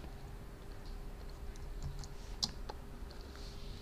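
Computer mouse clicks while working in Photoshop, a few sharp, light taps scattered over quiet room noise, with one louder click standing out.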